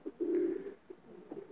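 Domestic racing pigeons in a loft give a soft, low coo, one drawn-out call followed by quieter murmurs, close by with no talking.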